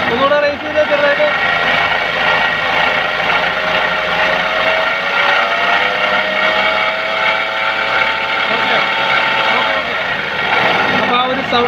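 A Hyundai Santro engine revved steadily, giving a loud, sustained, grinding drone with a strong harmonic whine that holds nearly constant from start to finish, heard up close and alone.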